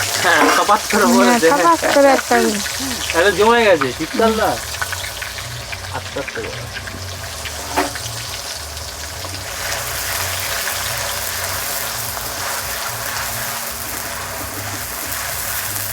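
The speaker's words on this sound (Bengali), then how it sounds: "পেঁয়াজটা ভাজা হচ্ছে" Onion paste frying in oil left over from frying potatoes gives a steady, even hiss that takes over after a few seconds of tonal, voice-like sounds at the start.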